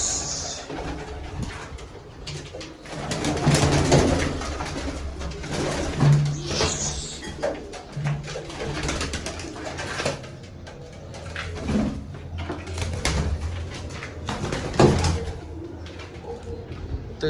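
Pigeons cooing after being let out of their enclosure, soft repeated low coos with scattered wing flutters and knocks of doors or cages, close by and without talk.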